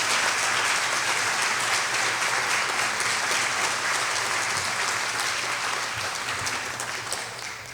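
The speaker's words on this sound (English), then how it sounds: "Can we give all of our retirees a big round of applause?" A school district retirement celebration audience applauds its retirees, dense sustained clapping from many hands filling the room at steady loudness before easing slightly at the end.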